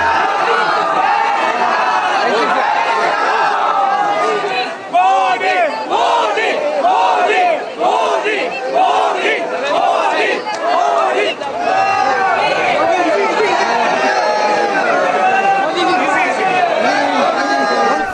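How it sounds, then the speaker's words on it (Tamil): Hundreds of people gathered outside a hotel in Sri Lanka cheer and shout in welcome as India's prime minister arrives in pouring rain; a dense, loud, continuous crowd roar with overlapping yells runs for the whole stretch. "தங்கும் விடுதிக்கு வெளியில் திரண்டிருந்த நூற்றுக்கணக்கான மக்கள் மோடியை கண்டதும் ஆரவாரம் செய்து"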